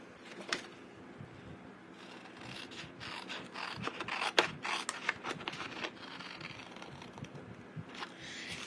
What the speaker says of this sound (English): let me just get my paper snips.